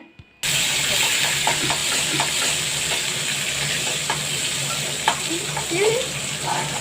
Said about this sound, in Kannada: ಈಗ ನುಗ್ಗೆಕಾಯಿ ಫ್ರೈ ಮಾಡಬೇಕು